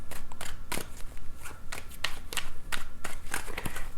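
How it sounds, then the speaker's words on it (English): Tarot cards shuffled close up in a few quick riffling bursts with short pauses between, crisp papery flutters and soft slaps, no talking. "A few more shuffles."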